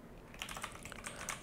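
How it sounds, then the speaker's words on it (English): Fingers tap a computer keyboard in quick, uneven bursts of light clicks, faint and close, with no voices over it. "I'm typing here"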